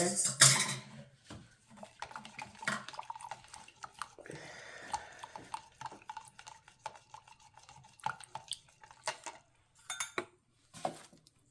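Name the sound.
stirring a homemade brightening toner mixture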